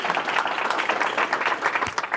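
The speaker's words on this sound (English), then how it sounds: "let's give a big round of applause" An audience at a Harvard Innovation Labs talk breaks into applause, a dense, loud, continuous clatter of many hands filling the room for a couple of seconds.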